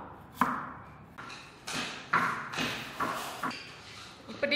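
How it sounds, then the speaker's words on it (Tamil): A kitchen knife slices through vegetables for a vegetarian lunch, giving about seven crisp, close cuts at an uneven pace, each with a short thud on the board. "இதை ஸ்லைஸ் பண்ணிக்கலாம்"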